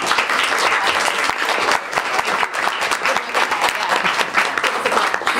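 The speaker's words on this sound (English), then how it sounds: "take a huge round of applause" Audience applause at a news entrepreneur fellowship event, dense steady clapping from a crowd at close range, sustained loud throughout without any talking.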